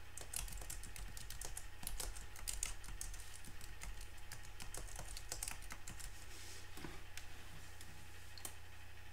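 Rapid clicking keystrokes on a computer keyboard while a blog post is typed into WordPress, a close, quiet, irregular patter of taps over a faint steady hum, with no voice.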